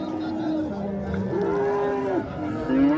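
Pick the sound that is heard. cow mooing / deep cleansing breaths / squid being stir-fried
cow mooing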